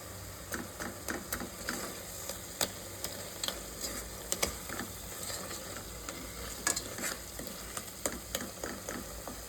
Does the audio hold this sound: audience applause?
no